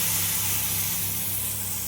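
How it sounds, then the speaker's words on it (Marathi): Hot milk poured over roasted vermicelli in a pan, a loud broad steady hiss and sizzle close by, fading slightly over two seconds. "मी गरम दूध त्याच्यात टाकले."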